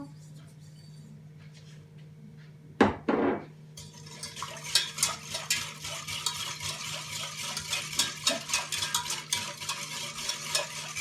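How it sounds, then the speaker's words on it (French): Sugar is stirred into a mixture for a strawberry tart: quiet at first, then a sudden loud clatter, followed by steady rhythmic scraping strokes close up. "On mélange bien."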